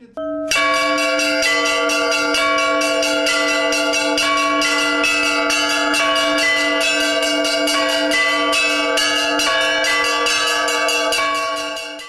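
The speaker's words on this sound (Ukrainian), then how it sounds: "Цього разу дзвони три дзвонять, бо свято." Three bells of a cathedral ring together for a feast day, loud overlapping clangs struck in a steady pattern that continues for over twelve seconds.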